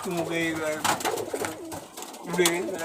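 Pigeons coo in low, rolling calls, close and fairly loud, repeating several times with faint background noise.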